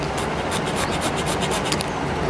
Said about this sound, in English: Rub it and make a smoother end and edge so that sounds well.